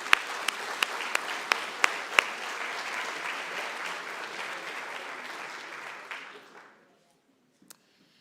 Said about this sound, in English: Can everyone just give them a round of applause again?